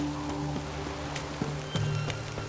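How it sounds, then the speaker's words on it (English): Rain falls in The Witcher 3: Hearts of Stone, a soft steady patter with scattered sharper drops beneath faint sustained in-game tones. "Looks like rain."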